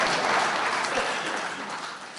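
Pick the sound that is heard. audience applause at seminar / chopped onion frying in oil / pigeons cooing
audience applause at seminar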